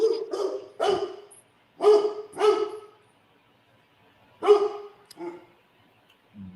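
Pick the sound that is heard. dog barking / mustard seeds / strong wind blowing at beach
dog barking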